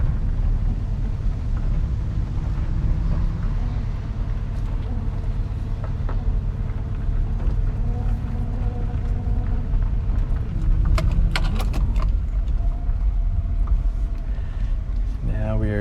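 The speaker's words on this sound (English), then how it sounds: "We're doing some improvised engine braking there" A 1987 Subaru XT Coupe without working brakes rolls downhill on a driveway, its engine droning in steady low-gear engine braking, a continuous loud rumble with some higher tonal whine near the end, with a voice talking over it.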